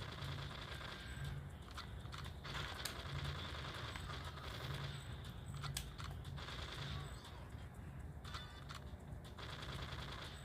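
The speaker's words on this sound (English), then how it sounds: "I'm going to use the machine gun here to get rid of this turret" Machine gun fire at a turret in the GoldenEye 64 game on the Control level, rapid repeated bursts of game gunshots over a steady hum, fairly faint overall with no talk.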